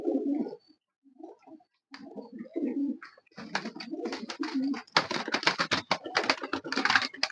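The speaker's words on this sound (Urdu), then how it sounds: "ڈاکٹر صاحب کے پاس یہ کبوتر بڑی تعداد میں موجود ہیں" Pigeons coo in soft, low, repeated calls, then rapid clattering bursts of wing flapping or scuffling crowd in, close and fairly loud.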